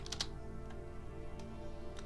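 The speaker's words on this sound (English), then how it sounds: "And we're just gonna type in miniature shader." A few scattered clicks of typing on a computer keyboard, faint and close, over a steady low hum, with no one speaking.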